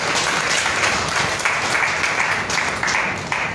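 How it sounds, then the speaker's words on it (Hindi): Audience members at a Hindi poetry gathering in Delhi break into loud, sustained applause, dense clapping from a large crowd that stays strong throughout with faint voices beneath. "एक बार उस माँ के लिए आप लोग जोरदार तालियां बजा"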